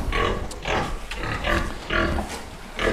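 Pigs, including breeding sows, grunt in a barn in a run of about five loud, close, rhythmic bursts, each a throaty rasp with short gaps between.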